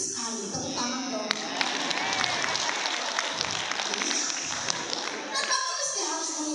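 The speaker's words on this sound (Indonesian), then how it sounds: "Tepuk tangan dong." An audience at a seminar on blood types and personality breaks into scattered clapping and cheering for several seconds, with some voices mixed in, before the applause thins out.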